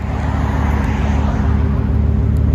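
A Ford F-150 Sport 4x4 with a 5.0L Coyote V8 and straight-pipe exhaust idles loud and close, a steady deep rumble holding throughout.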